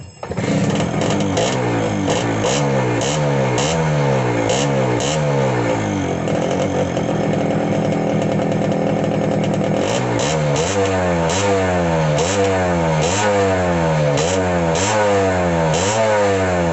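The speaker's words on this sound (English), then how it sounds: "So I'll start the vehicle. I'll start my bike. I'll show you the sound." Suzuki Shogun motorcycle engine firing up and revving repeatedly, a loud, close two-stroke buzz rising and falling in pitch through many quick throttle blips, with a brief steadier idle partway through.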